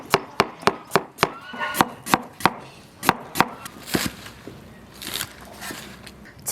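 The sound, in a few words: chopping scallion, ginger, garlic, onion and coriander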